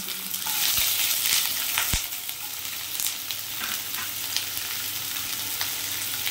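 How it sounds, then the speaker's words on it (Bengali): Sliced onions and whole garam masala fry in hot oil, giving a steady, loud, close sizzle with a few sharp crackles and pops. No one speaks. "গোটা গরম মশলাটা একটু হলে আমি এর মধ্যে সরু করে কাটা পেঁয়াজটা"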